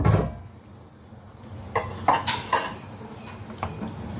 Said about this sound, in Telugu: వేరే గిన్నె పెడుతున్నాను